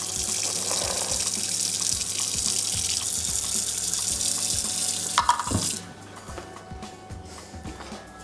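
Very hot water gushes steadily from a tap for about five seconds, then shuts off, leaving a quieter hum with faint drips and clinks.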